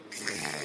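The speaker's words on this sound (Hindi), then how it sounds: "आज ये लोग इतने खर्राटे ले रही हैं" Cartoon snoring from someone asleep on a hot night, a steady, raspy drawn-out breath lasting under a second, fairly close and alone with no talk over it.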